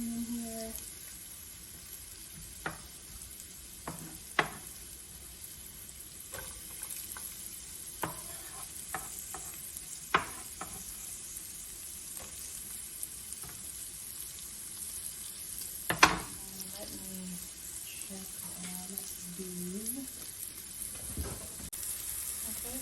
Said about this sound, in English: let's add our onion in here.